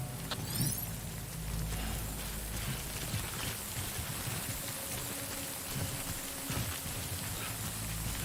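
Steady rain pours throughout in the video game Death Stranding Director's Cut, a dense continuous hiss with low rumbling underneath, no voices.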